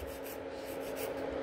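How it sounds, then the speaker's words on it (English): Steady abrasive rubbing of a nail file shaping gel nail tips into a short almond form at a salon, a continuous close scratchy stroke with no talk. "when I'm filing the shape"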